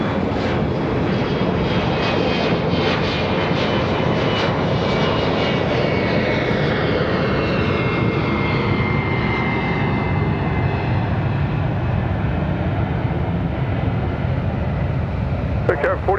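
United airliner taking off from runway 23 right at Raleigh-Durham airport, a loud sustained engine roar with a whining tone sweeping in pitch as it powers down the runway, heard continuously without breaks.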